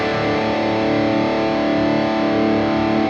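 An electric guitar runs through the Supreme amp model on a BOSS GX-100 and rings out as one loud, sustained distorted chord that stays full and steady before it is cut off.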